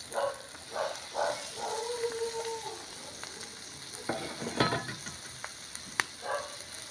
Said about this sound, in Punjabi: ਹਾਂਜੀ ਮਸਾਲਾ ਆਪਣਾ ਭੁੱਜ ਰਿਹਾ ਜੀ